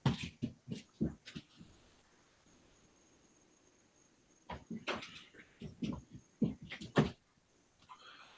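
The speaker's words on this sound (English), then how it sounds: "Sorry for my dog barking, y'all." A dog barks indoors in short sharp bursts, a cluster at the start and another run later, separated by a quiet stretch with faint background noise.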